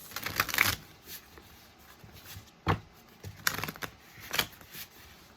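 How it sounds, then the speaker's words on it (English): A deck of cards being shuffled up close, with quiet riffling bursts and sharp flicks and taps coming in uneven spurts between short pauses, and no talking. "Let me just shuffle"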